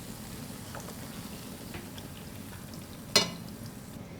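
Golden flatbread made from flour and water frying in hot oil, a steady soft sizzle and crackle throughout, with one sharp louder clatter near the end, close by and with no talking.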